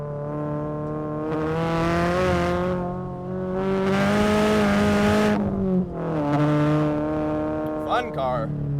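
A turbocharged Subaru BRZ sports car drives and revs with a strong, steady engine drone that rises and falls in pitch through the gears, loud and close as if heard from inside.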